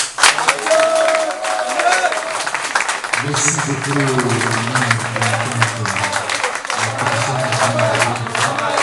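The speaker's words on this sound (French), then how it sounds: "On applaudit encore." An audience applauds steadily at a gathering while voices talk over the clapping throughout.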